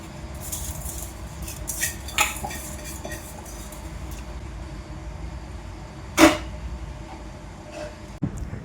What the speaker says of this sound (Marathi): तर अशी गॅस कट्ट्यावर जी भांडी पडतात ती मी सोबत सोबतच धुवून ठेवते